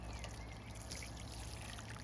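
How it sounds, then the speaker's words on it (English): Water pouring onto newly planted basil in a kitchen herb pot, a steady, soft trickling stream that continues evenly throughout without pause. "Now we'll give her water."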